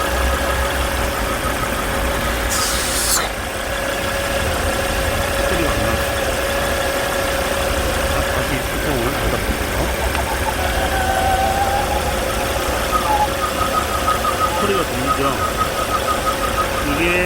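A Volvo C30 engine idles steadily with a persistent knocking, rattling noise from the oil separator running underneath, constant and close throughout.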